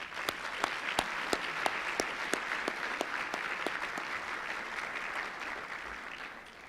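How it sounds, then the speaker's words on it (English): Crowd applause at a stewardship luncheon for a university president and his family: many hands clapping steadily, with one nearby clapper's sharp, evenly spaced claps cutting through before the applause fades out. "How about a round of applause for them?"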